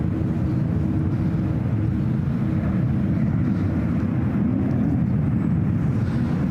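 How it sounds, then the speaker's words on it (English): A United Boeing 787 Dreamliner taxis out at SFO with a steady, broad engine rumble that holds at constant loudness throughout, heard from a distance and with no voices. "There's a United Dreamliner now heading out to the 28s."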